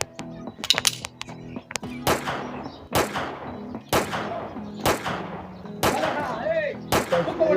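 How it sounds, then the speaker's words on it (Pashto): Celebratory gunshots at a wedding ring out as loud, sharp bangs roughly once a second, each with a ringing tail, after a quicker burst of shots at the start. "یو څو ډزې به وکړو بیا به ځو"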